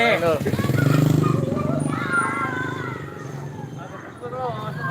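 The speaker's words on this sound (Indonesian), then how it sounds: "Ada motor nih gitu." A motorcycle engine passes on a street during an Ondel-ondel street performance, its hum rising and fading under lively talking and crowd chatter.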